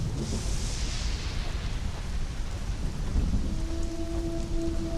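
Heavy rain pours in a thunderstorm in the survival game Conan Exiles, a dense, steady downpour with a deep rolling rumble of thunder underneath, loud and continuous, no talking.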